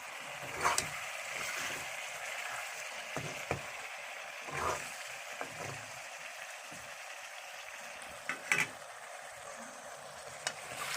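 Sliced onions fry in oil in a pan for Assamese chicken curry, a soft, steady sizzling hiss with occasional louder pops and stirring knocks, heard close and alone.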